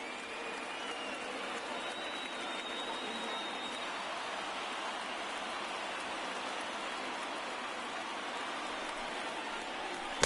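A stadium crowd of over 39,000 in MLB The Show 19 baseball, on their feet during an 0-2 count, makes a continuous broad hiss of cheering and applause that stays level for the whole stretch.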